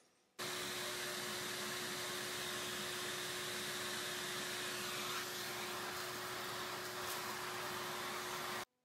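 A vacuum cleaner runs over a wooden desk top during furniture restoration, switching on abruptly and holding a loud, steady, rushing whine for about eight seconds before cutting off, with no one speaking.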